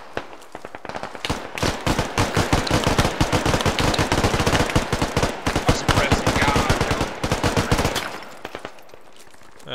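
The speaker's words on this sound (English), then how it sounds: "I need suppression fire." Suppressive machine-gun fire in the military shooter Squad, heard as a long, loud, rapid string of shots that runs almost without a break for about eight seconds and then stops.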